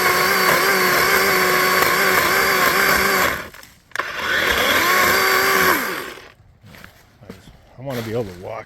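A DeWalt DCCS621 20V compact 12-inch brushless cordless chainsaw whines loudly and steadily for several seconds, cuts out briefly, runs again, then winds down to quieter rustling.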